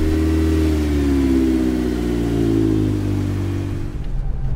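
A Honda Civic Type R FD2 engine pulls away, its steady mid-pitched drone rising slightly in pitch as it accelerates, loud and close, then easing off near the end with no voices over it.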